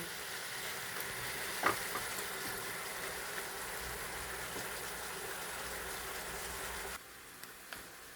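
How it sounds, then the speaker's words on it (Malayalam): Prawns fry in hot oil for a prawn biryani, giving a steady, dense sizzle that runs evenly with one brief clatter partway through, then drops suddenly quieter near the end; no one talks. "ചെമ്മീൻ ഏകദേശം ഫ്രൈ ആയി ഇനി നമുക്കത് കോരി മാറ്റി വെക്കാം"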